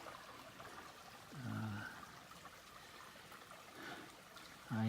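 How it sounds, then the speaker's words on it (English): A babbling brook, the creek near a trail campsite on the Appalachian Trail, runs as a faint, steady trickling wash in the distance, with a few brief low thumps over it. "I can hear the babbling brook."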